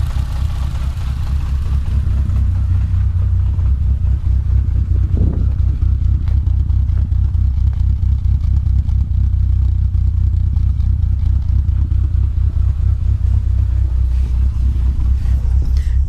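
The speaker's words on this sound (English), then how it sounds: "turbo's back on, burning everything off, just warming up, it's getting into its low P idle" Renault Twingo with a 2.0 litre turbo engine idling as it warms up after a turbo swap, a steady low rumbling drone, close and continuous.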